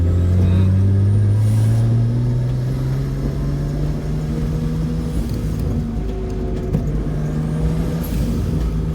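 A Nissan 240SX with an RB20 engine drives along, its engine note droning steadily and loud with rising harmonics as it pulls, continuous and close throughout.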